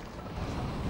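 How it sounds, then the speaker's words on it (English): Wind rushing steadily in the Assassin's Creed Unity video game, a dense, continuous roar that stays loud and close throughout the short moment with no talking. "Wind."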